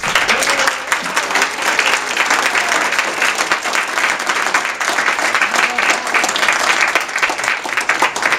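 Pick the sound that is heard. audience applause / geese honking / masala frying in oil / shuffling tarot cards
audience applause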